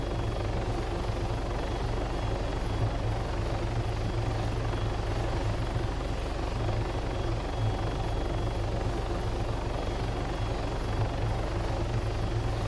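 Helicopter in the video game Arma 3, its rotor and engine a constant loud, close, throbbing drone that holds steady without a break and has no talk over it.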